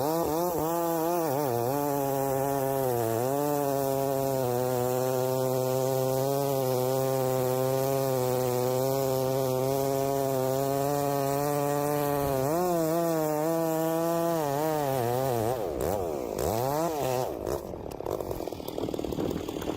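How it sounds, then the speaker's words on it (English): A Stihl two-stroke chainsaw cuts into a big tree, its engine holding a loud, steady buzzing whine that dips and rises with the load, then breaks into choppy revving near the end. "A Stihl chainsaw works by using a two-stroke engine to power a chain that is wrapped around a guide bar."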